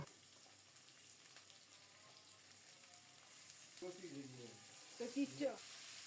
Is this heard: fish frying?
yes